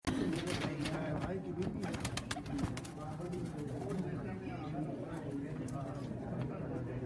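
Red Chinese pigeons coo and flutter nearby in a busy loft, with steady background noise and occasional sharp clicks.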